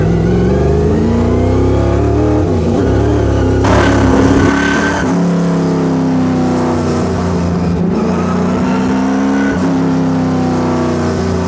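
A NASCAR stock car drifts around a roundabout, its loud engine revving and roaring steadily up close with rising and falling pitch through the slide, alone without talk.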